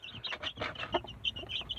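A broody hen clucks repeatedly in short, choppy bursts, fairly close and with no talking.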